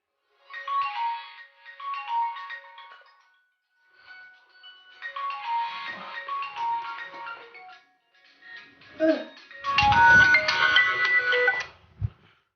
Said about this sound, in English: Mama Ajasco, your phone is ringing.